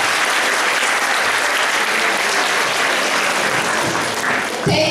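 An audience at the end of a global health lecture gives sustained, even applause, with dense clapping that fills the room at steady loudness throughout.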